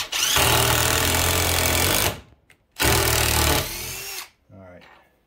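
A cordless drill runs in two loud, sustained bursts with sharp starts and stops, followed by a shorter, quieter whir.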